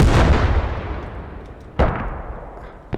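Cannon artillery fires in a competitive video game match: a heavy boom opens, then decays into a rumbling tail, and a second sharp blast follows partway through, with a faint third report at the very end.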